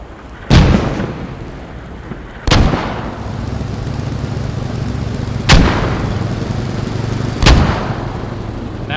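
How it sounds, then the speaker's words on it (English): Mortar shells landing and exploding in a video game battle, four sharp loud booms spaced a couple of seconds apart, each with a rumbling tail over steady low background noise. "Now with mortars falling here"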